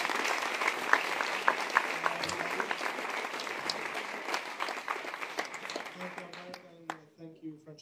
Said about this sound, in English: a big applause to Giorgio Catania